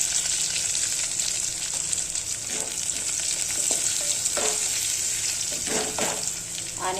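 Onions frying in a pan as turmeric goes in, a steady close sizzle with light stirring scrapes now and then, no voices.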